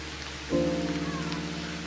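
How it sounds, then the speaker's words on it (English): Steady rain falls on and around a tall tree, a continuous soft hiss that thickens at about half a second with a low, even wash underneath, with no voices. "look at how amazing the rain looks on that tall tree"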